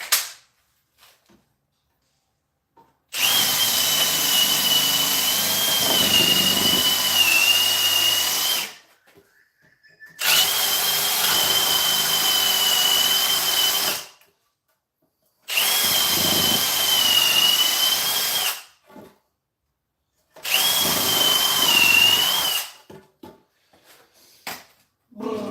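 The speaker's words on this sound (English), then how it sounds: "instead of reaming out the concrete, which is going to take ages, ream out the timber" A power drill reams out timber in four long, loud, whining bursts separated by brief silences, each run holding a steady high tone with a little wobble as the bit bites into the wood.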